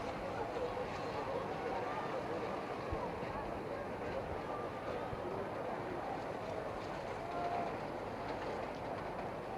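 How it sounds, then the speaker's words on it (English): A steady, continuous rumble of trains rolling past, with a rattling clatter throughout and a faint murmur of voices in the background. "Three trains all going at the same time."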